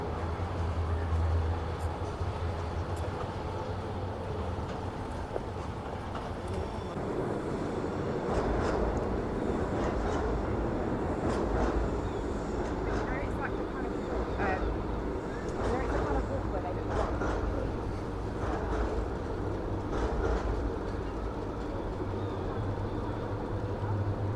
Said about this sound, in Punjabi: ਅੱਛਾ ਨਿਕਲਦੀ ਹੈ ਟ੍ਰੇਨ ਇਹ ਟ੍ਰੇਨ ਡਿਫਰੈਂਟ ਹੈ